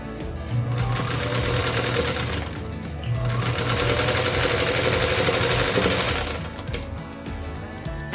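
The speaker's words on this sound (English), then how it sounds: "we'll sew one of those units to the opposite side" A sewing machine runs in two sustained close bursts while stitching quilt block units together, a fast, even mechanical whir with a pause just before the second run and quieter handling afterward.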